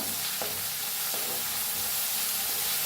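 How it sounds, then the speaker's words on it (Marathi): Ground garlic frying with cumin and asafoetida in a pan for kadhi rice, a steady close sizzle with a few soft scraping stirs throughout, no voices. "लसूण वाटून घेतलेलं घालूया याच्यात, पत्ता। त्याला हलवून भाजून घेऊया चांगलं।"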